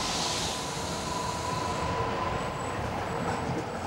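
A Newcastle Metro train on the local railway system rumbles steadily and loudly throughout, with a continuous broadband roar, a faint tonal whine and light wheel noise, and no talk.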